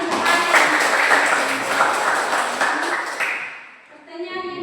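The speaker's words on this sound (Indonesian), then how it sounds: "tepuk tangan untuk Ani" A classroom audience claps for a student during a teaching assessment session. A dense burst of applause holds steady and then fades out, and a voice follows at the end.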